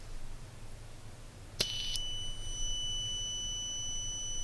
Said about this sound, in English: You can see the buzzer.